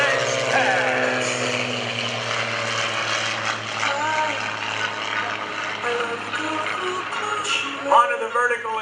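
The Iron Eagle aerobatic team's propeller airplanes drone steadily overhead at the 2013 Greenwood Lake Airshow during an opposing pass. The engine noise is loud and sustained, with an announcer's voice running over it.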